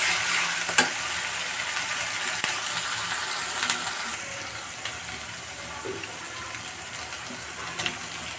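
Ground ginger, garlic and onion spice paste frying in a pan for a chicken roast, a continuous soft sizzle with occasional stirring clicks and scrapes, steady and close with no talking.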